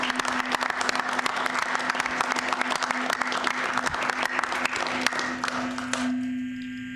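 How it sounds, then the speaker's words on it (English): Applause in the room at a village board meeting, a dense, sustained patter of many hands clapping that cuts off near the end, leaving a steady hum. "we'll give you guys a round of applause too"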